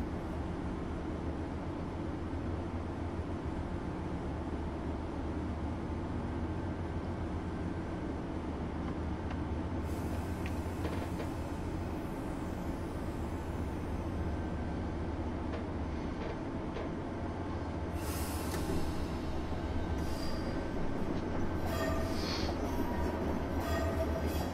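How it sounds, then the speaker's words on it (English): A CSX Genset locomotive runs on the North Jersey Coast Line in Train Simulator 2016, a steady low rumble with clicks and higher metallic squeals toward the end, no talking. "Stopping the train."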